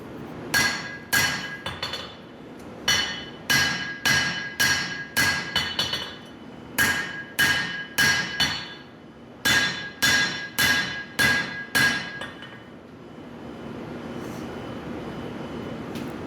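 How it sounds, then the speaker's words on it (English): A hammer rings on a steel honesuki knife blade over an anvil, planishing in quick bursts of rhythmic blows with short pauses between, close and loud, then a fading hum. "I'm just finishing up the forging, doing some planishing"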